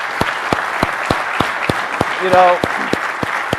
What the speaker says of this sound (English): I'll hopefully give him a round of applause.